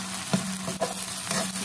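Peas and onions are stirred in a sizzling pan, the steady frying hiss broken by a few scraping spoon strokes and soft knocks against the pan, close and without speech.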